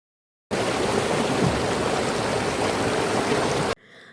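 A mountain river at Rishikhola rushes in a loud, steady broadband roar that starts abruptly and cuts off just as abruptly, leaving a quieter tail.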